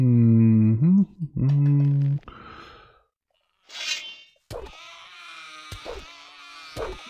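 Sheep in Gothic 2 giving a drawn-out, wavering bleat, loud and close, followed by breathy noise and a few sharp clicks over a faint hum.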